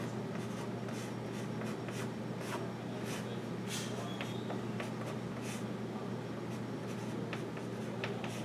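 Faint scratching of writing on a board during a differential-equations lecture, steady and continuous over a low room hum, with no talking.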